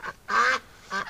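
A female duck being caught beside a winter creek gives several short, loud honking quacks in a quick burst, close by and with no talk over it.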